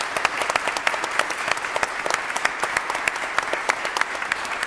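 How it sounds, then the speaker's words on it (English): A summit audience in a conference hall claps for guests joining remotely from Kyiv, giving sustained, evenly dense applause of many hands with distinct sharp claps throughout and no speech. "I think we need to give a big applause to our Ukrainian heroes joining us in Kiev"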